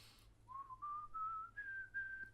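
A single person whistles a short rising melody of five clear, sustained notes of a harmonica tune, each stepping slightly higher, quiet and close.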